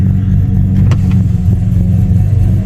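A Ford EL Fairmont Ghia engine with an aftermarket cam running at a steady low idle, deep throbbing rumble up close, with a couple of faint clicks over it.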